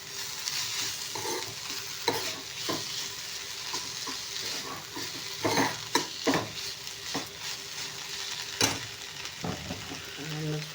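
Oil heating in a pan gives a continuous soft sizzle and crackle, with scattered clinks and knocks of utensils against cookware breaking through now and then.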